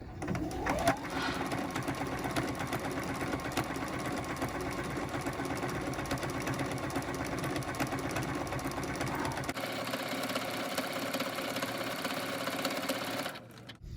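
A sewing machine stitches a quilt binding in a rapid, steady whirring run close by, with a shift in tone partway and a stop just before the end.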